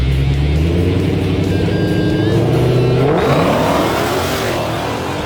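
A Dodge Hellcat tuned with DiabloSport launches and accelerates hard down a drag strip, its loud engine roar rising steadily in pitch as it pulls away, dominating the whole stretch with no talk.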